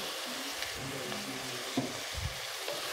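Green chillies frying in a pan of oil while thakkadi dough is prepared, a steady close sizzle with a few soft stirring clinks and scrapes, no talking.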